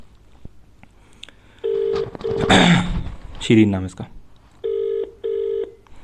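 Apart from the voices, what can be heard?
outgoing phone call ringing tone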